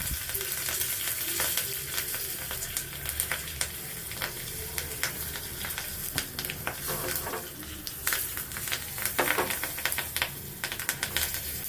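Curry leaves fry in hot oil for ridge gourd dal, giving a steady close sizzle with crackling pops and spattering throughout, with no voices.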